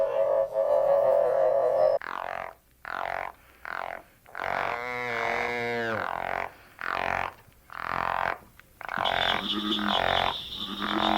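Oak toads (Bufo quercicus) calling in North Carolina, a series of loud, close, chirping croaks and peeping trills in irregular bursts separated by short gaps, with no talking.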